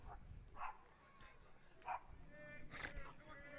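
A few dogs barking intermittently behind a baseball field during a semifinal game, faint and distant, with a commentator talking over the sharp yips.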